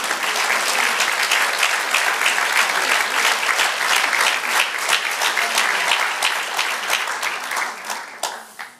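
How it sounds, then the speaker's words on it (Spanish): A church congregation bursts into sustained applause during a sermon, many hands clapping loudly and steadily before it thins out and fades near the end. "Dale otro aplauso al Señor."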